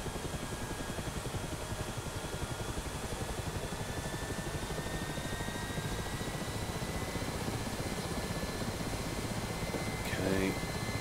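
A Mi-8 helicopter's engines idle in the DCS World flight simulator, producing a continuous, even drone with faint high whining tones that hold steady throughout.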